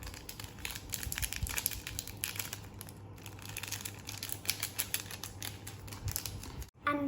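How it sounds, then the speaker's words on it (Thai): A homemade toy made from a plastic bag stuffed with more plastic bags is handled, giving a quiet, continuous crinkling rustle with small irregular crackles and no voices. "อันต่อไปนะคะ ก็จะเป็นถุงพลาสติก ที่มีถุงพลาสติกใส่ข้างในนะคะ"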